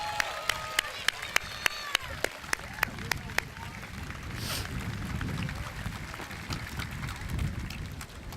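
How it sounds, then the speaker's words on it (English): Crowd applause at a middle school promotion ceremony, with sharp individual claps standing out in the first seconds, then settling into broader, softer clapping and crowd murmur. "Let's have one more round of applause for these 10 Students of the Year here."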